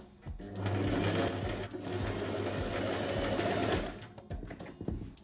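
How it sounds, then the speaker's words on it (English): A sewing machine runs a straight stitch seam with a 1 cm seam allowance on fabric for a scrunchie, giving a steady, close mechanical hum for a few seconds that then breaks into short bursts and clicks, with no talking. "now I will sew with a seam allowance of 1 centimeter with a straight stitch"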